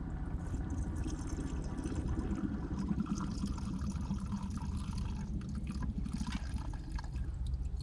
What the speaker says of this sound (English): I think what I'm going to do is pour the fuel in here